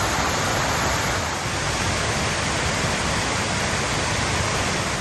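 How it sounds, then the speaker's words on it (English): A waterfall in Cornwall pours down over rock, a steady, dense roar of falling water heard close up with no breaks and no voices. "Here's a second bonus waterfall."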